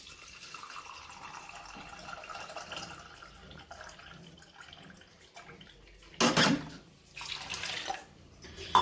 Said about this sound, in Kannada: ಇಲ್ಲಿ 2 ಕಪ್ ಆಗೋಷ್ಟು ನೀರು ಹಾಕ್ತಾ ಇದ್ದೀನಿ.